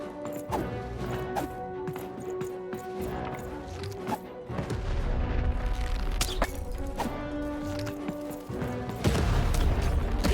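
Cannon blasts in the video game Lost in Random, a series of heavy thuds and crashes over a dense, continuous game soundtrack, with louder impacts clustering in the second half.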